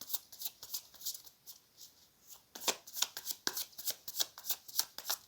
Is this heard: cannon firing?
no